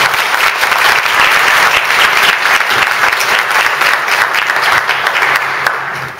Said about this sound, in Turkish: Bence alkışlayalım.